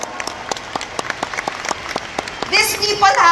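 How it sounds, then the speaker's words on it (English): Scattered hand claps from a seminar audience honouring leaders start sparse and irregular, then swell into louder applause as cheering voices and chatter rise near the end. "Can we all give our topmost leaders a round of applause today?"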